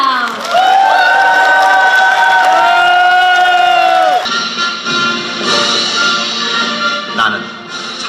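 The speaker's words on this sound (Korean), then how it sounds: "여러분의 힘찬 박수와 환호로" A book launch audience bursts into loud, sustained cheering and clapping. Held, ringing voices come first, then give way to a dense wash of applause and whoops from a large crowd nearby.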